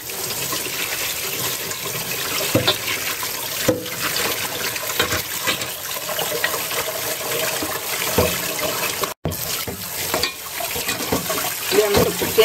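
Cold tap water runs steadily over cooked Shandong dried noodles in a kitchen sink, a continuous close splashing rush with small clinks and shifts in the flow.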